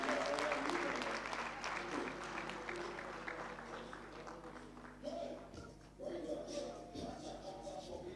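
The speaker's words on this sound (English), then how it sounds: "Give them a big clap as they take it for their child." Steady applause rises from a graduation ceremony audience as award recipients come up for their child, continuous and fairly distant, thinning briefly near the end before resuming.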